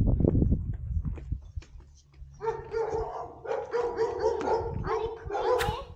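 A dog at holiday accommodation in Tenerife barks and then breaks into a drawn-out, wavering howl, fairly close, after some low background noise and what sounds like voices.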